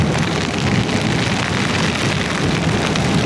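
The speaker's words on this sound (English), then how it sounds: "now it's raining." Steady rain pours down during a rainy ride on a KTM Duke 250 motorcycle heading to Vandri Lake, a dense, continuous hiss of drops that is close and loud throughout, with no voices.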